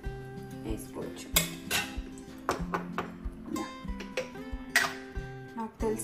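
A metal spoon stirs and scrapes through cooked khuska rice in a pot, making a string of close, moderately loud clinks and scrapes against the pot's sides in an uneven rhythm.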